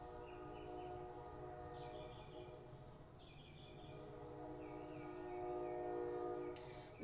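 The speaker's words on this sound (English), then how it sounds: "There's my train again." A train rumbles steadily in the distance, a low continuous rolling drone that swells slightly toward the end, heard faintly outdoors with insects chirping over it and no talk.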